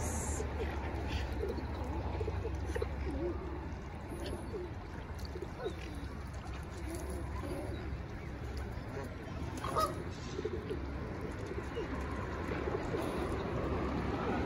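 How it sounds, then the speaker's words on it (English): Pigeons coo softly at very close range, low murmuring calls scattered over steady background noise, with occasional faint chirps from other birds. "I'm about 1 foot away from these pigeons."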